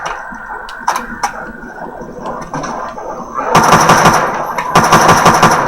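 Gunfire in the World at War Zombies video game: a few scattered single shots, then loud sustained automatic bursts, close and dense.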